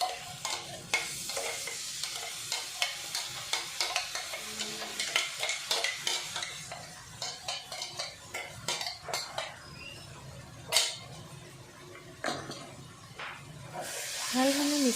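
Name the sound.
stirring spinach paste in a pan with a ladle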